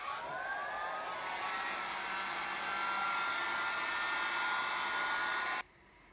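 A hair dryer blows steadily on alcohol ink artwork, a loud close whir that rises a little in pitch as it starts, holds for several seconds and then cuts off abruptly, with no talk.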